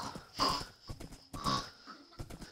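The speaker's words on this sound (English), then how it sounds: "that's what a pig sound like." Pig grunts from the Minecraft video game come in two or three short, snorting bursts, fairly close and moderately loud, separated by brief pauses.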